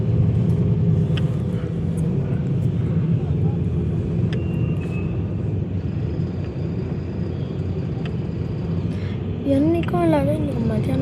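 Heavy midday road traffic on Hosur road, heard from inside a car: a constant loud engine rumble and road noise, with faint horn toots and a short whistling tone near the end.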